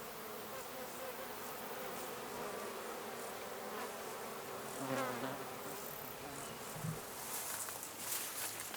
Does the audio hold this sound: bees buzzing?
yes